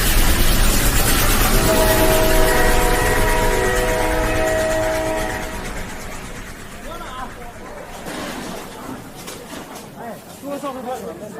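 A train arriving at a station, used as a sound effect in a Bengali suspense audio story: a loud rumble with a long horn blast, fading as the train slows, with some voices over it.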